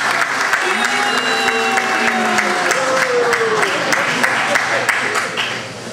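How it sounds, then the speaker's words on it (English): An audience claps steadily in a sustained round of applause, while a voice talks over it near the start, and the clapping fades toward the end. "Let's give Judas a hand for coming out today."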